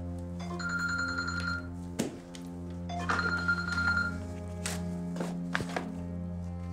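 A telephone rings in two distinct bursts, an electronic trill heard clearly over a steady background hum, with a few sharp knocks and clicks scattered between the rings.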